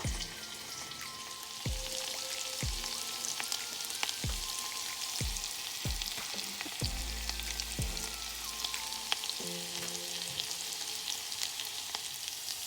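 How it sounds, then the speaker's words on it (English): Vegetables and garlic fry in a pan with a soft, steady sizzle, quiet and close, with occasional clinks and stirring taps scattered through and no talk. "I'm gonna let the veggies fry up for a few minutes first"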